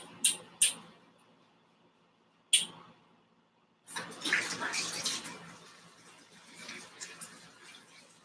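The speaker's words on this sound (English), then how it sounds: "Thankfully, we have just a little bit of dish soap that I can use to wash my hands." Hands being washed with dish soap under a running tap. A few sharp clicks come first, then after a quiet gap the splashing water and rubbing start and carry on, fairly soft and close.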